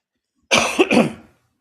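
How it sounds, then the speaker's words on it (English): A single short, harsh cough, close and loud, breaking into two quick bursts before fading out. "that's how a cough is supposed to sound"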